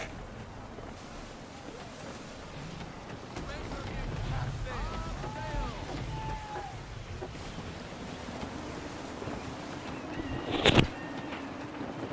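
Gusty wind rushes steadily while a sailing ship is under way in Assassin's Creed III, with faint water and creaking beneath, a voice speaking in the middle, and a sharp brief burst near the end.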